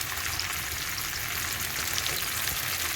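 Bolenjir fish frying in hot oil, Mangalore style, a dense continuous sizzle and crackle that stays loud and even throughout, heard close with no voices.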